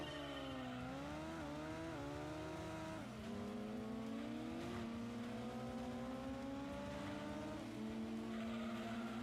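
A racing car engine in the video game Gran Turismo 2 drones steadily, its pitch climbing through gear shifts with a brief drop and rise, loud and continuous with no voices.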